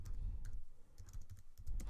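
Steady typing on a computer keyboard, a quiet run of close keystrokes with short pauses and a soft background hum, no voices.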